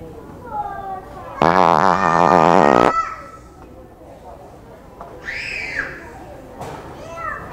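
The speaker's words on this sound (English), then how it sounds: "You farted." A prank fart device lets out a loud, sputtering blast of more than a second inside a Walmart store, with shoppers and children chattering and squealing before and after.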